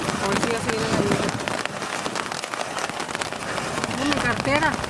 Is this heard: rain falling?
yes